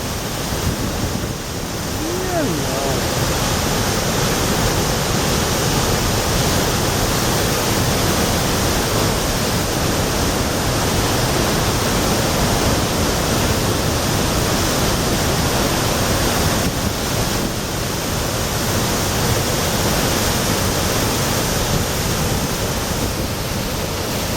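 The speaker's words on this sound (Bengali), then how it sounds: "আমরা এখন বরবিন্দু ওয়াটারফলসের সামনে দাঁড়াচ্ছি। অস্বাভাবিক কেমন ধাপে পড়ছে জলের স্রোত।" Borhill waterfall in Meghalaya, with water falling in steps, gives a steady, loud, broadband roar of rushing water that fills the whole span without pause, mixed with some wind noise.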